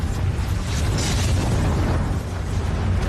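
A deep, rumbling blast from the 1902 eruption of Mount Pelée, a volcano on Martinique, rolls on as a sustained heavy roar for about three seconds, loud and dense, with no voices.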